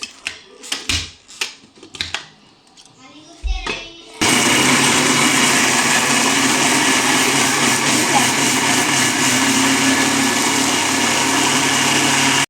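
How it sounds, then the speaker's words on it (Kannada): A mixer grinder grinding raw mango with salt and water starts up loud and runs steadily as a dense, continuous whir. Before it, a few brief clicks and handling knocks are heard. "ಇದನ್ನೀಗ ಗ್ರೈಂಡ್ ಮಾಡ್ಕೊಳ್ಬೇಕು ನೀರು ಹಾಕಿ."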